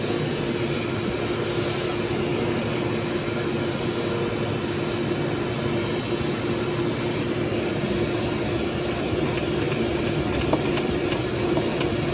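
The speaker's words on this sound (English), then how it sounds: "So let's blow some dust out of there and see if we can lubricate that." Compressed air blows dust out of the bearings of a model train, a loud, continuous hiss with a low tonal hum beneath, steady and close for the whole stretch.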